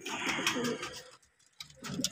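Domestic fancy pigeons, including Murshidabadi, Gibaz, Madrasi and Kaldoma types, coo close by in soft throaty phrases that break off briefly in the middle and then resume.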